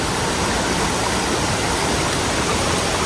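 River water flows near the Curug Bleweran waterfall in a constant broadband rush, loud and close, unbroken for the whole stretch with no voices.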